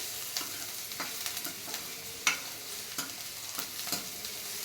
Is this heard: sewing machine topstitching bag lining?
no